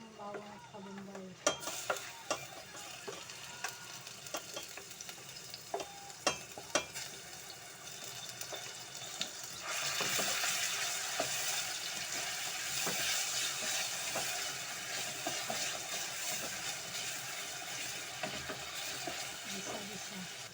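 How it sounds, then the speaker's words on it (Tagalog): Bottle gourd being sautéed with garlic and onion in a pan, a soft steady sizzle that swells louder partway through, punctuated by sharp scrapes and taps of a spoon stirring against the pan. "Gisa tayo ng upo. Lagyan na natin yung bawang at kabumbay."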